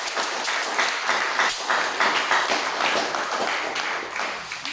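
A church congregation at a Sunday service applauding for the Lord, with sustained, dense clapping from many hands filling the room steadily throughout.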